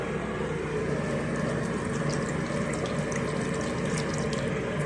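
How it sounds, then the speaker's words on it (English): Steady rush of water running from a tap as hands are washed at a sink, loud and close, with a constant splashing hiss and no talking. "I just got to wash my hand here."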